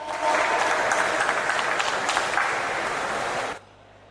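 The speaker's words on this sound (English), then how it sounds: "let's give her a huge round of applause" An audience applauds Chef Sudha at a food festival inauguration, with dense hall clapping held strongly for about three and a half seconds before cutting off abruptly into quiet room tone.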